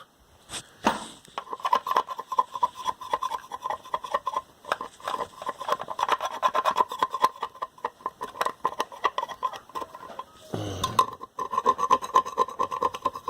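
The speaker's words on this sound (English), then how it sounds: "Just scraping it with an old butter knife" An old butter knife scraping caked junk out of an Essex guitar body, a dense run of gritty, rasping strokes close to the listener with a couple of louder knocks.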